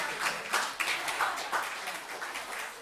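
A church congregation claps for the children during a morning worship service, a steady spread of many hands at moderate loudness with scattered sharper claps, and a voice faintly mixed in.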